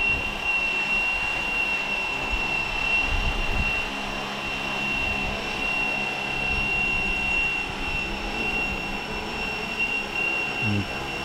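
Fly Wing Bell 206 Jet Ranger RC helicopter flying nearby, a steady high-pitched motor whine with constant rotor noise holding at a fairly loud level throughout, no talking.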